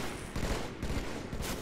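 Gunfire and grenade blasts in the Halo 3 video game, dense overlapping bursts and thumps filling a busy, continuous stretch of combat noise.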